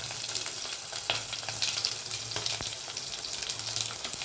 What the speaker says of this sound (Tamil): இப்போ கடுகு, வரமிளகாய் ஒரு 3 பச்சை மிளகாய் எடுத்துருக்கேன், போட்டுக்கிறேன்.